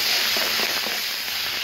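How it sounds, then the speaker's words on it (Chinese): Chopped pickled red chilies hit hot oil in a wok with fried ginger and garlic, giving a steady broadband hiss of sizzling that holds fairly evenly throughout. "姜蒜爆香之后将切好的红泡椒下锅"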